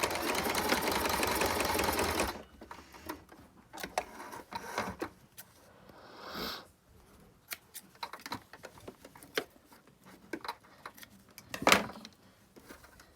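Sewing machine stitching a face mask with a short stitch length back and forth, a loud rapid whirring run for about two seconds, then quieter intermittent clicks and fabric handling close by.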